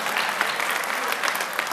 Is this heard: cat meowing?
no